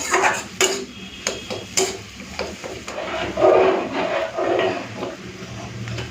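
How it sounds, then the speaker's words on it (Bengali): Mashed teasel gourd being stirred and pressed in a pan to dry it, with repeated close scraping and tapping of a utensil against the pan in an uneven rhythm. "জলটা আমি হাফ শুকিয়ে ফেলেছি এইভাবে নেড়ে নেড়ে আরও শুকাতে হবে"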